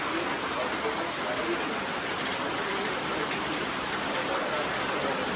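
Steady rain falling, a constant broadband hiss with no breaks, moderately loud and even throughout.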